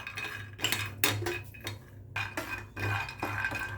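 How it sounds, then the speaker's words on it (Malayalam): Peanuts roast in a hot pan for poha while a spatula stirs and scrapes them, giving irregular metallic clinks and gritty rustles up close. "നമുക്ക് നല്ലോണം ഒന്ന് വറുത്തെടുക്കാം"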